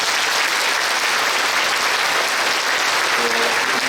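A large congregation at a church service marking Korea's 80th Liberation Day at Yonsei Central Church applauds. Dense, steady clapping fills the hall at full volume for the whole stretch.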